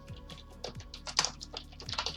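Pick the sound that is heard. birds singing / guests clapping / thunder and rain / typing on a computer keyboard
typing on a computer keyboard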